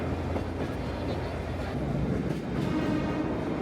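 The Sagano sightseeing trolley train in Kyoto rolls along its tracks with a steady, rumbling rattle and faint rhythmic clatter, heard from on board at moderate volume.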